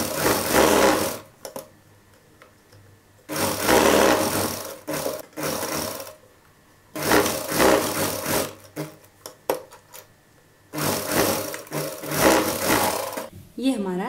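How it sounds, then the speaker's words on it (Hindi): A sewing machine stitching fabric for a child's dhoti salwar runs in three or four loud bursts, each a few seconds long. Short quiet pauses separate them, and someone talks between the runs. "इस जगह से हम इसको सिलाई लगाकर एक बना लेंगे।"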